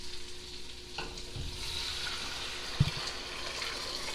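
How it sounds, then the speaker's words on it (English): About eight cups of water poured into a hot pot of leftover pork soup with dissolving Marmite, a steady rushing gush under a sizzling, bubbling cooking bed, with a brief clunk near the end, no talking. "I'm going to add my water, about 8 cups of water"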